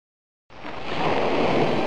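Ocean waves heard through a seashell in a cartoon: after brief silence, a steady rushing surf noise starts abruptly and swells gradually louder, with no talk over it.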